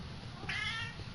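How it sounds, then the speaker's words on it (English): A domestic cat gives a single clear, drawn-out meow that rises and falls over about half a second. It sits over a steady background hiss, with no talking. "I got a cat."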